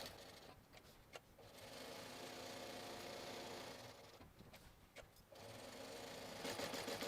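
A sewing machine back stitches a seam on a crossbody bag, its motor running in a steady close whir with brief pauses and restarts.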